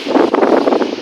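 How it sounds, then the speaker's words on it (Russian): Strong wind buffets the microphone in a garden of roses, a dense rushing roar that surges in quick gusts for the whole moment with no voices. "Ветер очень сильный."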